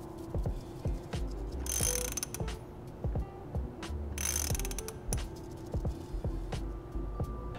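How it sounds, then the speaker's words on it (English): A 27 mm socket wrench ratchets, tightening an oil cooler adapter fitting on a 2022+ GR86/BRZ. Close, fast clicking comes in several bursts with brief pauses and a couple of louder metallic scrapes between them, with no voices. "we'll take a 27 millimeter socket and screw this down until you feel it touch the adapter"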